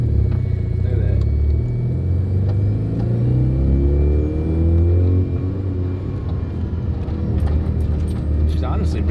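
A restored Mazda FC RX-7 rotary engine revs up close, its rumble climbing and falling in swells before settling to a rough, throbbing idle, loud and near.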